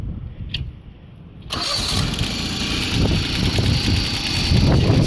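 A 1988 John Deere 322 garden tractor engine cranks briefly, then catches and settles into a steady, fairly loud idle close by.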